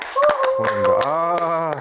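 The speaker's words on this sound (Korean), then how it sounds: "우선 저희 조선일보 이 기사에 큰 박수." A few sharp, close claps ring out in a studio while voices talk and sing along over them, the hand strikes loud and scattered rather than a full applause.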